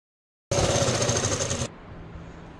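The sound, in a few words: sewing machine stitching fabric pieces of salwar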